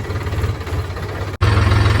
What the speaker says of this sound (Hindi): कमल अपन ट्रैक्टर लेके आज खेत गए हुआ